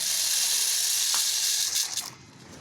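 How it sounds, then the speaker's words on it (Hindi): Chickpeas being added to water for a chickpea pulao, a steady loud splashing gush like water pouring into a pot, easing off near the end with a few small splashes, no talking. "सबसे पहले हम चनों को पानी के अंदर डालते हैं"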